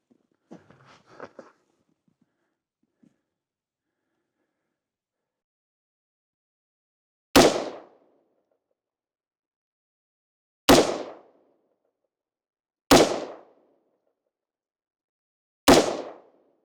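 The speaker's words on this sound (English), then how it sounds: "Let's see if we can send rounds downrange here." Four sharp gunshots ring out on a homestead shooting range, spaced a few seconds apart, each a loud crack with a short decaying tail, after faint handling noises and near silence.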